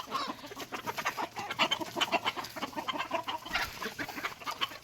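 Several free-range village chickens in a Konkan backyard flock cluck steadily nearby in a busy, continuous flock chatter, with no talking.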